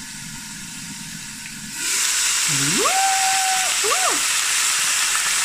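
Oxtail browns in a pot, a loud hiss of searing meat that switches on abruptly after a quiet start and holds steady, while a voice lets out a rising, whistle-like whoop over it.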